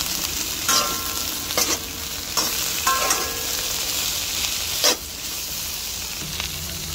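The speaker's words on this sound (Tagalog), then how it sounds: "Lagyan na natin ating Baguio beans." Baguio beans tossed into a hot pan, stir-fried with a steady, loud sizzle, broken by a few sharp utensil scrapes and clanks, no voices.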